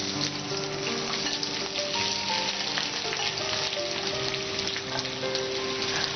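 Onions frying in a pan for a Kerala-style home cooking dish, a steady dense crackling sizzle holding at an even level throughout, with faint tonal hums beneath and no voices.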